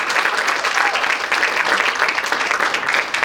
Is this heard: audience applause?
yes